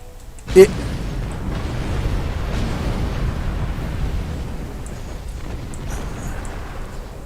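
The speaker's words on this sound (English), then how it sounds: "I'm not entirely sure what's going on with the explosions around me." Explosions in the video game Star Trek Online: one sharp, loud blast near the start, followed by a continuous low rumbling roar of distant booms.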